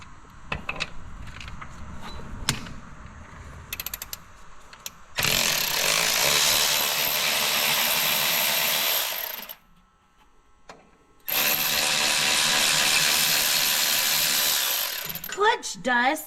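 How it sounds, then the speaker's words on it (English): A power tool, likely an impact driver or drill, whirs in two long loud bursts removing clutch cover bolts from a 2021 Pro XP / XPT Turbo, with clicks and tool handling before and between them. "So she's gonna take 3 of the bolts completely out."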